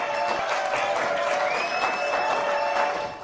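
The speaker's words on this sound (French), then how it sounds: "Applaudissements pour les invités" A French television studio audience applauds the guests, steady dense clapping throughout with a faint musical tone running underneath.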